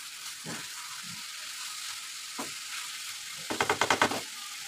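Chicken rica-rica with lemon basil tossed in a hot wok, with a steady sizzle under a few brief scrapes and a quick run of rhythmic spatula taps near the end.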